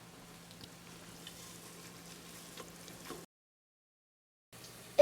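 Mint and chilies sizzle together in a pot while being stirred, a steady close frying hiss that cuts out briefly to silence, then resumes and ends with a sharp scrape.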